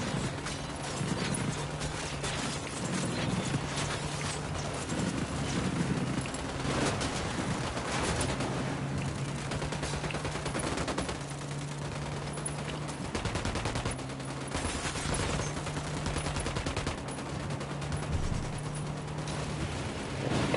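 Gunfire in the video game Ghost Recon Wildlands, rapid bursts and crackling volleys overlapping throughout, with a low steady hum beneath and shots repeating at a fairly constant loudness.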